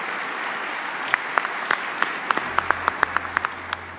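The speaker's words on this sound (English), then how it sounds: "And a round of applause." An audience at a GLMC 2025 conference session gives a short round of steady, crackling applause, with a few louder individual claps standing out over a low background hum.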